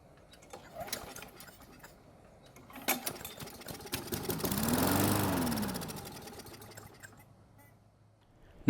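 A Poulan lawn mower's small engine sputters and catches after a few clicks and pulls, then runs briefly with a rising and falling mechanical drone before winding down.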